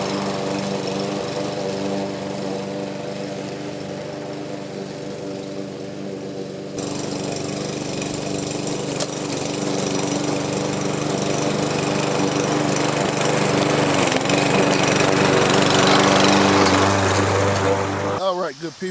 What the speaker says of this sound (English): I've only used the lawnmower so far. Went through, cut down the weeds.